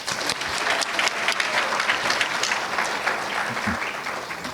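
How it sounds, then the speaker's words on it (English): Applause from an audience at a graduate student scholarship reception, honoring a third-place recipient: steady, moderately loud crowd clapping that continues evenly from start to finish. "One more round of applause for Anthony."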